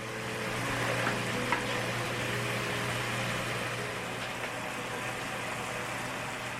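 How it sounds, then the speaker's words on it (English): A beef pan being deglazed with white wine gives off a soft, steady sizzle and gentle crackle, fairly quiet, with no talking. "I've added the white wine and now I'm deglazing the pan"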